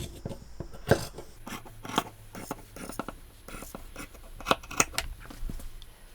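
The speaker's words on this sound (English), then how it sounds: "I'm going to completely cut the side seam toward the armhole." Scissors cut through men's shirt fabric along the side seam toward the armhole, making a series of close, crisp snips and slicing strokes at an irregular pace. No one speaks.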